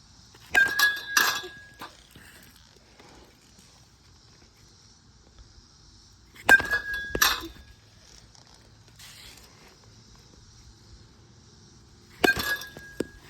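Three sharp, ringing metallic pings spaced several seconds apart, each a bright strike of a brand-new 2026 Easton Mav1 Flash USSSA metal bat on a ball with a brief tinny ring, with quiet in between.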